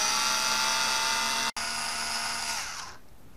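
A power drill backs out a long doorknob screw in a continuous high whine. There is one brief break partway through, and the sound fades at the end.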